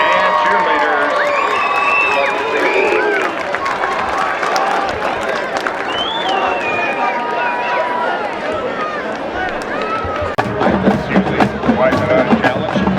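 A large outdoor crowd applauds and cheers for Junior Trojan football players and cheerleaders. A dense wash of clapping, whoops and shouts runs throughout, and a burst of louder clapping and cheering comes near the end.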